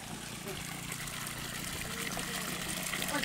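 A Persian wheel well in rural Punjab draws and spills water in a continuous splashing, trickling wash, with voices talking underneath throughout.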